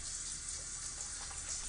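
A cheap shower runs steadily in The Sims 4, a continuous hissing spray of water at low level with no break or talk over it.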